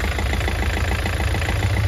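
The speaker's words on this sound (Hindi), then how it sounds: "डीजल इंजन है भाई" A 2023 Hyundai Venue diesel engine idles steadily and loudly up close, a continuous low rumble with a rough, clattering knock running through it.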